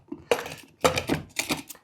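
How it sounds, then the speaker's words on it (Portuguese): A pressure cooker pot lid being closed in a home kitchen while cooking a dulce de leche pudding: three bursts of metallic clanks and scraping, each about half a second, close and fairly loud with no talk. "A gente vai fazer isso assim que eu conseguir fechar minha panela."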